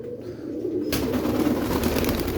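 Pigeons on a rooftop coo softly while being let out of their loft, a low steady murmur that swells into a denser, louder flock sound partway through, with no voices over it.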